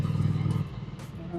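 A 2019 Ducati Scrambler Full Throttle motorcycle putters at low revs along a wooded off-road trail, a low steady engine rumble that eases off after a moment.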